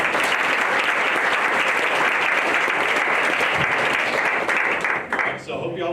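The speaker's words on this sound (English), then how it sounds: "So one more round of applause." A large crowd applauds at a 2019 college unity program on the Tupelo campus: dense, loud, sustained clapping that tapers off at the very end.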